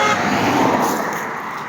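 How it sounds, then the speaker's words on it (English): Road traffic goes by on a normally quiet residential road, a steady broadband rush of vehicles passing nearby and filling the whole moment without any break. "Y'all hear how much traffic it is on our road."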